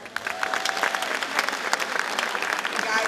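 Enthusiastic audience applause for a performer at a Bourbon Street live music and messages event, dense sustained clapping from a sizable crowd with a few whoops, steady and loud throughout.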